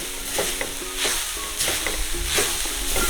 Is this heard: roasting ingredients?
yes